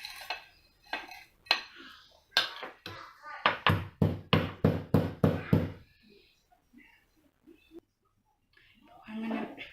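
Cumin and black pepper pounded in a mortar for rasam: a dozen or so sharp, hollow thuds, first spaced out and then in a quick steady run, close by, before fading to quiet with faint voice near the end.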